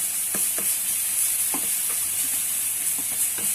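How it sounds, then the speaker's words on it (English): Onion and garlic with salt sizzle in a frying pan, browning and caramelizing: a steady bright hiss runs throughout, broken by a few soft taps from stirring, with no one talking. "So let it grill for a while so it's all brown and caramelized."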